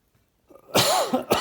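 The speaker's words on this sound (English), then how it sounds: "Pardon my cough." A single harsh cough, loud and close, with a short second burst right after.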